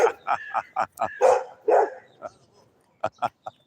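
A dog barks and yips nearby in a quick burst of sharp calls, then goes quiet briefly before a few more short barks.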